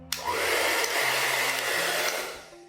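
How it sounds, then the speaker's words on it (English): A hair dryer blows steadily at full power on a page of wet Rohrer & Klingner water-soluble colored ink, held close. A constant airy roar is heard alone, switching on sharply and easing off at the end. "I tried to use a hairdryer"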